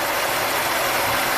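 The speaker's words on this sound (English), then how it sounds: "Definitely a cylinder drop right there. Notice the engine gets smoother because that's a companion cylinder." A supercharged V6 in a 1995 Buick Riviera idles with a cylinder misfire, producing a steady, loud, close broadband rumble with no pauses.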